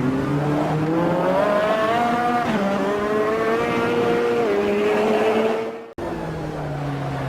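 A 600-horsepower, 5.5-litre naturally aspirated mid-engine V8 race car in Automobilista 2 howls at high revs, its pitch climbing steadily. A brief cut near the end marks a gear change before the loud drone resumes.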